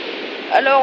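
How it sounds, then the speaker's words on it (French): Steady, broadband rush of a waterfall beside a river fishing spot, heard close and continuous, with a voice beginning to speak over it near the end. "on a changé d'endroit, près d'une cascade"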